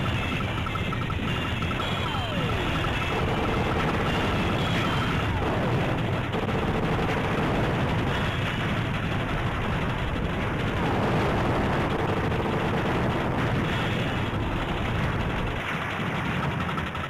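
Scatter bomb and rapid shots in the arcade shoot-'em-up Raiden Fighters Aces, a dense, steady barrage of blasts, pops and engine drone that runs loud and unbroken throughout.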